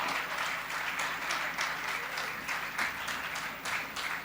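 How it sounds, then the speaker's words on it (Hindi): Sustained audience applause at a Hindi poetry recital, a dense even patter of many hands clapping with slight pulsing swells, moderately loud and with no voice over it. "कौन कहता है कि सहारनपुर ताली नहीं बजाता?"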